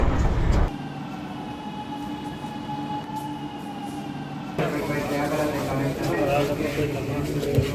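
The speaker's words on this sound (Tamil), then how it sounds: "சென்ட்ரல் மெட்ரோலேருந்து இப்போ ட்ரெயின் ஸ்டார்ட் ஆயிடுச்சுங்க" A Chennai Metro train hums and whines as it pulls away from Chennai Central station, the motor tone steady then growing rougher and louder as it picks up speed, with voices beneath.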